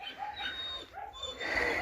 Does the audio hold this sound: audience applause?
no